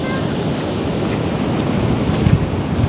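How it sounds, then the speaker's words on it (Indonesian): Loud ocean surf at Karapyak beach in Pangandaran, a dense continuous wash of waves mixed with wind buffeting the microphone, swelling slightly near the end. "Ini di pantai Karapyak di bagian barat ini ya"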